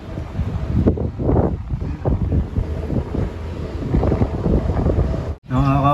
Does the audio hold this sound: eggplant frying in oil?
no